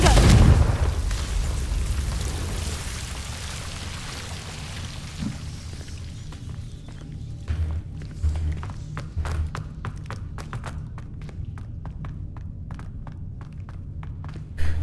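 A Confringo fire spell goes off in the Hogwarts Legacy game with a loud, deep boom at the start that rolls away over a few seconds. Scattered taps and pops follow, then a brief burst near the end, with no talk.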